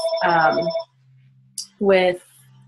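A telephone rings in two loud electronic bursts separated by a short pause, each trilling ring clear and close, with a soft hum lingering between them.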